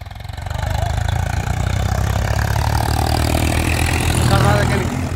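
Swaraj and Massey tractor engines run in top gear during a race, a loud, steady diesel drone with a low rumbling clatter, close by and building slightly toward the end.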